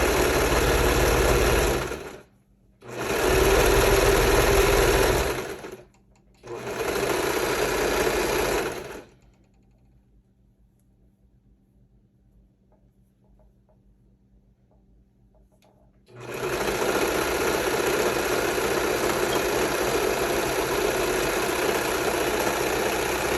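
A sewing machine stitches sublimated bodysuit fabric in three short close whirring bursts, goes quiet for several seconds, then resumes with a long steady run.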